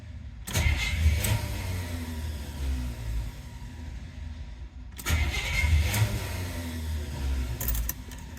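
A 1972 Buick Skylark engine cranks on the starter without catching, two long bursts of rhythmic churning separated by a brief pause, close and loud.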